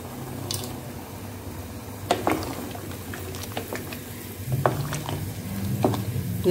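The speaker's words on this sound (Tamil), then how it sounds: "இன்னும் கூட கொஞ்சம் கொதிக்கிற தண்ணி ஊற்றிக்கலாம்." Boiling water poured into a pot of Tirunelveli tiffin sambar, giving a steady, close liquid rush and bubbling with a few sharp clinks and splashes, and no voices.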